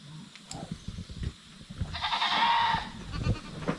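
A goat bleats once in a drawn-out, wavering call in the middle, amid scattered background knocks and rustling.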